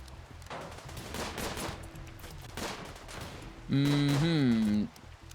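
Gunfire in the RimWorld video game during a raid on a colony, a few sharp shots followed by a short buzzing burst with a rising and falling tonal whine, while someone talks over it.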